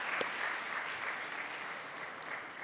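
A conference audience at a city summit claps in a steady, dense burst of applause, heard from within the hall and continuing evenly throughout.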